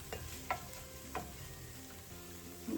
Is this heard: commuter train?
no